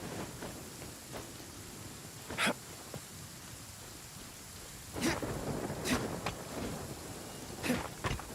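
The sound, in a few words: rain and thunder in Genshin Impact video game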